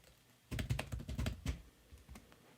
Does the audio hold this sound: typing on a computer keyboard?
yes